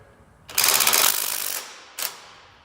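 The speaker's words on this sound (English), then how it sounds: "Now I'm going to tighten it just to snug fit." A ratchet snugs a slip-on exhaust bolt on a 2017 Ford Mustang: a close, rapid run of clicks lasting about a second, then one short second burst, with no talking.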